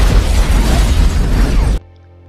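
A loud, roaring blast fills a hospital room in a film scene, a dense, sustained explosion that rumbles for almost two seconds before cutting off abruptly into near silence.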